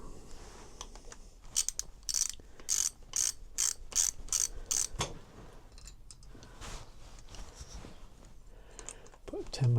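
Ratcheting spanner clicks as two nuts are tightened against each other on a Honda RS250 during a strip down, with a quick burst of rapid ratchet bursts in the first half, then quieter handling sounds and faint talk nearby.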